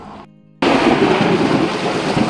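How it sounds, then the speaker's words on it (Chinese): After a brief quiet moment, a loud roar of heavy rain and rumbling thunder bursts in and holds steady, a summer downpour over a rice-paddy crayfish farm with ponds being drained. "哦呦呦呦呦，下暴雨喽"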